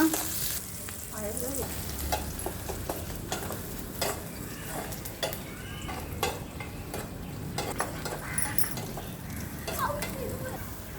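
Onion and curry leaves sautéing in a pan with dried red chillies for ragi adai, a constant close sizzle punctuated by repeated sharp stirring scrapes and clicks of a utensil, with faint talking in the background.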